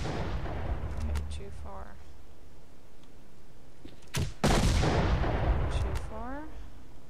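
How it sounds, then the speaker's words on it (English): Hand grenades go off in a Pripyat-set video game: two heavy, booming blasts land close together midway and roll off into a rumble, with someone talking over the game sounds before and after. "this one might be better with hand grenades"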